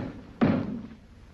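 In a 1946 American Western film, a single sharp door slam thuds once, then fades quickly into quiet.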